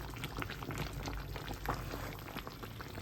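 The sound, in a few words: pot of meat, liver and kidney cooking on the stove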